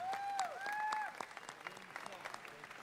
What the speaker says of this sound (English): A round of applause for the All-Ohio State Fair Youth Choir.